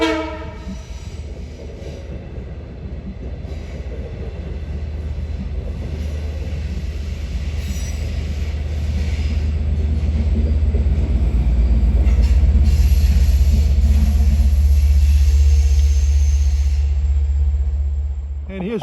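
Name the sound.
train 657 passing on Port Jefferson Branch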